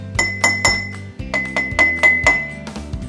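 A spoon tapping a water-filled cup of a homemade water xylophone, a series of about ten bright ringing glassy dings in a steady rhythm, close and clear with no talking.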